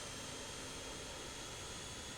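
Jet engine of a JustFlight RJ airliner spooling up during engine start in Microsoft Flight Simulator, a steady broadband roar with a faint high whine, even and unbroken throughout, with no talking.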